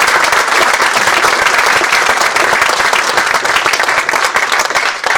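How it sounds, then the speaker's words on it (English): Dense, steady applause from a seated audience at a hydrogen industry conference talk, loud and continuous throughout with no voices, thinning slightly toward the end. "Round of applause."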